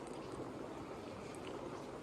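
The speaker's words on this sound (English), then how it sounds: "you could probably hear the rain right now" Steady, dense patter of rain falling, a continuous wash of soft hiss with no voices or other sounds standing out.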